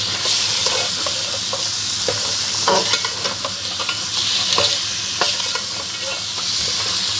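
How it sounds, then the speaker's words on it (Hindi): Mutton trotters frying in masala in a pot with a loud, steady sizzle and hiss, broken by irregular scraping and clattering as they are stirred, with no voices. "पाए शामिल करके हम इनकी अच्छे से भुनाई करेंगे।"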